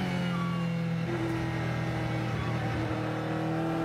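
A Le Mans endurance race car, number 26, passes during a practice session at the 24 Hours of Le Mans, giving a steady engine whine. Its pitch shifts as it goes by, with a continuous mechanical drone underneath.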